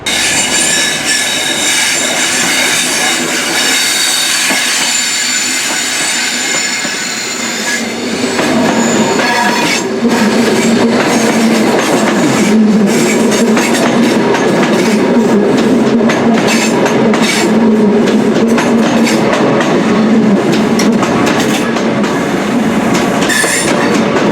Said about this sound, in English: I'm also here for the CrossCountry Class 43 HST as well, as it goes towards Bournemouth.